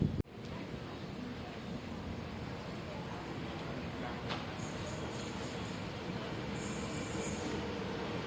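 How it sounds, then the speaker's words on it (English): A train pulls into a station on the Hua Hin to Chumphon line with a steady rolling rumble of wagons, faint wheel squeals and a sharp clank near the start, heard from the platform at moderate distance. "here is the train coming in"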